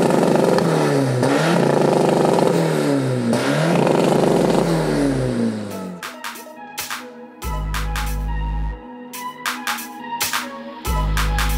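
A NOS-powered 600bhp 1.9 TDI Seat Ibiza diesel revs hard, with rising and falling engine sweeps in the first half followed by rough, gappy bursts, clatters and sharp bangs as the revs drop and pick up again.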